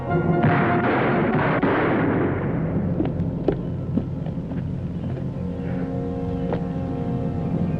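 Gunfire in a 1958 western film, a sustained loud rumbling blast fading into scattered sharp cracks and echoing shots at a distance.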